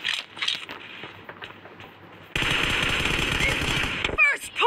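An M416 rifle fires in a video game, a fast sustained burst of loud, dense gunfire that starts abruptly midway, preceded by fainter in-game sounds and ending with a short mechanical rattle.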